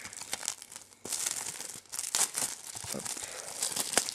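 Plastic packaging is torn off a Spider-Man game in a few bursts of close, loud crinkling and crackling, with a short pause near the start and a brief spoken word.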